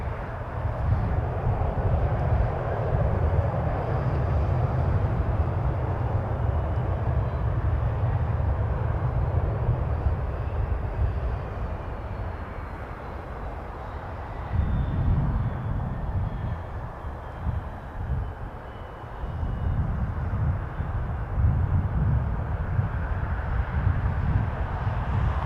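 Airliner engines at Toronto Pearson Airport roar during a crosswind takeoff, a loud, sustained low rumble that swells and dips over about twenty-five seconds with no talk over it.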